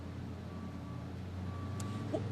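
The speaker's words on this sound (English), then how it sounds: "you can actually hear behind me the dump truck that's carrying more gravel" Dump truck carrying gravel for a temporary road during flood repairs, backing up with steady repeated reversing beeps over a low engine rumble, heard at moderate distance with no speech.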